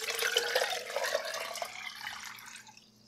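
Water pours into a fermenter in one short, soft, splashing stream that tapers away after a few seconds, with no voices.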